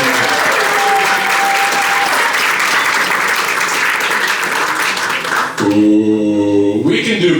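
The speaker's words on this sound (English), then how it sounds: "Give yourselves a round of applause for coming out on this Saturday." Saturday comedy club crowd giving a loud sustained round of applause, dense clapping filling most of the stretch before a voice cuts in over it near the end.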